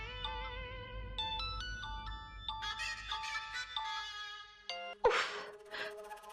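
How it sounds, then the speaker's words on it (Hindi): A phone ringtone plays a bright stepping electronic melody, fairly close, followed by a short noisy burst near the end. "वरुण का फोन।"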